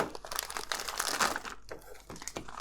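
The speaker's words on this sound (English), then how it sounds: "So we get this cut open." A plastic parts bag from an Agora Models 1967 Shelby Mustang Super Snake kit being cut open, giving close, continuous crinkling and rustling that builds, briefly drops out, then resumes.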